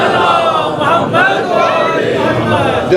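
A crowd at a Muharram majlis answers in unison with a loud, voiced salawat chant, many voices blending into a sustained collective call.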